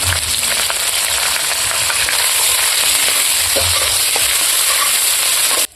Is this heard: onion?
yes